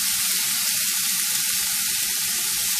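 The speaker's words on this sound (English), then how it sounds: "I'll give those a couple minutes saute up there." Vegetables sauteing in a hot pan for a tofu stir fry, a steady loud hiss and sizzle with faint stirring taps beneath, no voices.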